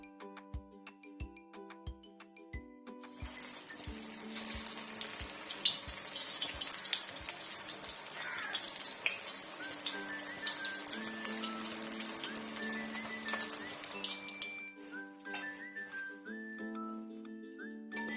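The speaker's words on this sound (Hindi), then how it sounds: "अब हम छोटे छोटे पकौड़े तल लेते हैं" Small besan pakoras for kadhi being dropped into hot oil: a few soft taps, then a steady quiet sizzle and crackle that keeps going, with a faint background tone and no talking.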